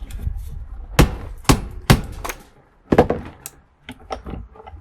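Irregular hard knocks and thuds while a cash register part is clamped down on a workbench, with a burst of three loud strikes, softer clatter and small taps in between, close by with no talk.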